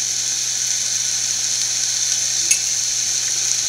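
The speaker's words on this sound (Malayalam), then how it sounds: "എൻ്റെ കൂടെ തന്നെ തേങ്ങാക്കൊത്തും കൂടെ നമുക്ക് വറക്കാം" Bitter gourd with onion frying in a pan, a steady bright sizzle that holds evenly throughout with a brief scrape of stirring.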